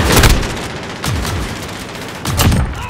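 Gunfire in the video game Call of Duty Modern Warfare, a free-for-all match: three loud rapid bursts of shots with booming tails, close and harsh, spaced about a second apart.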